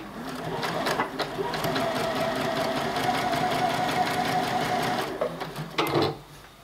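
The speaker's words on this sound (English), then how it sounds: "Now when I start sewing, it automatically then did 3 forward, 3 back, and then started sewing normally." A Juki DX7 sewing machine stitching a fabric scrap runs with a steady, fast mechanical whir and needle clatter for about five seconds, then slows and stops with a few closing clicks.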